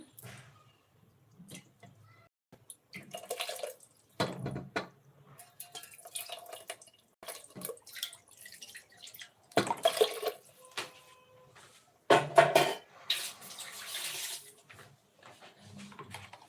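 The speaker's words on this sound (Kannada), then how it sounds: "ಸ್ವಲ್ಪ ನೀರು ಹಾಕೊಂಡು ಮಸಾಲೆನೆಲ್ಲ ಇದಕ್ಕೆ ಮಿಕ್ಸ್ ಮಾಡ್ಕೊಳ್ಳಿ" Water splashes and drips in short bursts, with scraping and stirring sounds in between, as water is added to masala paste and mixed for sprouted-legume sambar.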